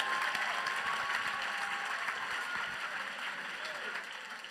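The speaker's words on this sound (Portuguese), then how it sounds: "Dê a ele uma poderosa oferenda de palmas" A church congregation in New Jersey applauds in a steady, moderately loud wash of clapping, with faint voices and cheers mixed underneath.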